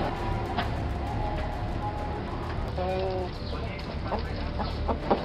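A chicken clucks in short bursts against a constant background hum, with people talking nearby.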